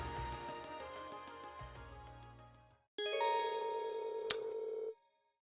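A phone rings in Trails of Cold Steel: a tinkling jingle fades out, then a bright sustained ring tone sounds, cut by a sharp crack-like burst before it stops abruptly.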